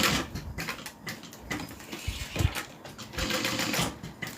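A domestic sewing machine stitching through a bag's layers, producing a rapid mechanical chatter in uneven bursts with some thumps and rattles, moderately close.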